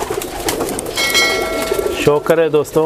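Dub, or Kamangar, pigeons of an old breed coo in a low rolling burble through the first two seconds, then a voice talks loudly over them.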